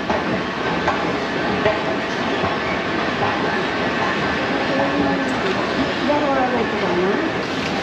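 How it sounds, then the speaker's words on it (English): A train rolls through a Mallorca intermodal station, a dense steady rumble of rail noise with faint wheel squeals rising near the end, people talking lightly under it. "we're going into the intermodal, and we're going to catch a train"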